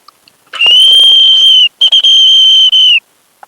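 A man imitates a whistle with his mouth using saliva, producing a loud, piercing, steady tone that breaks once briefly and then continues before stopping, with no talking over it.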